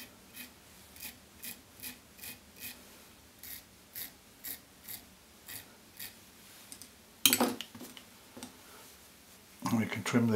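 Scissors snip fly-tying fibres in a steady series of short, soft cuts about every half second, close and quiet, followed by a couple of louder rustling bursts near the end.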